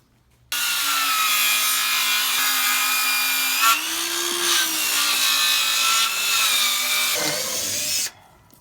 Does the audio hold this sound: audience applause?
no